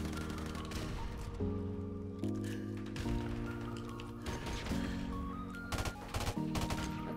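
Rapid gunfire and explosions from Call of Duty Modern Warfare Remastered, with dense bursts of shots layered over the game's music and effects at a steady, busy level.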